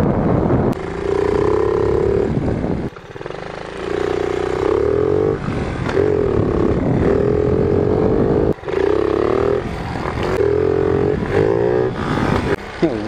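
A 1977 Honda Z50 minibike fitted with an 88cc big bore kit runs close and loud, its small engine revving in repeated rising bursts with brief dips between them.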